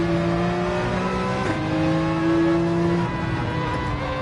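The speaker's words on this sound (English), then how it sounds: "high revving V8, incredible." A flat-plane crank V8 race car engine in Gran Turismo 7 revs high and steady, a loud sustained tonal whine that dips briefly on a shift and climbs again.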